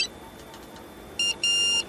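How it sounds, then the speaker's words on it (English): A new mobile phone gives two short electronic beeps near the end, quiet over a low room hum. "It's my new mobile phone. The latest model, you know."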